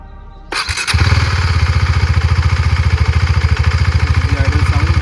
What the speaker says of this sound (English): let's listen to the not so interesting exhaust note of the KTM Adventure 390 and let's start it up